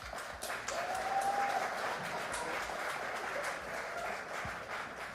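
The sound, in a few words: audience round of applause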